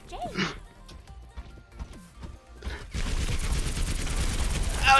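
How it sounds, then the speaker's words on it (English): Video game gunfire, several sharp shots early on and then a dense, sustained burst of rapid fire that grows louder toward the end, with a voice shouting over the first part. "Stop shooting me!"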